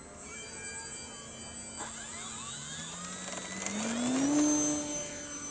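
FMS 1700mm PA18 model airplane taking off on a short field, its electric motor spinning up from quiet to a loud steady high whine, then rising in pitch and fading slightly as it climbs away.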